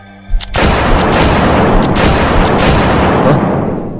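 Sustained burst of rapid gunfire in an animated film, loud and dense, starting abruptly and rattling on continuously for several seconds with no talk.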